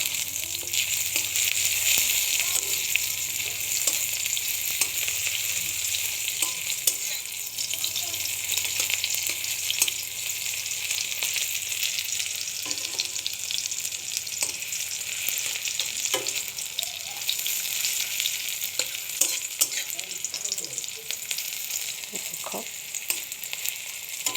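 Chicken skin frying in a little oil with onions, a dense continuous sizzle and crackle close up, broken by occasional spatula scrapes and taps on the pan, with no talking.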